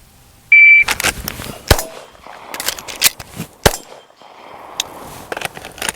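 Pistol shots fired in timed pairs, a first shot then a fast reload and follow-up, with a sharp electronic timer beep at the start and several loud cracks spread over a few seconds.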